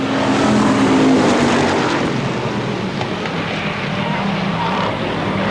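Unmuffled race cars roar continuously at Motordrome Speedway, engines loud and dense as they drive hard into the turns, with a layered, droning wash of several cars close together.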